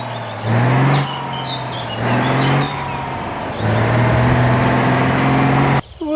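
A toy truck trailer's sound effects play in repeated bursts: an engine revving with rising tones, separated by brief pauses, and a sharp hiss like an air brake near the end, all close and clear without talk.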